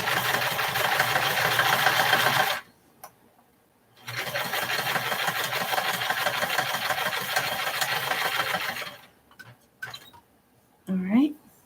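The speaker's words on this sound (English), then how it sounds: "excuse the sewing machine" A household sewing machine stitching fabric while sewing a heart-shaped pillow pincushion, its fast mechanical whirring running in two long bursts separated by short pauses, close and fairly loud.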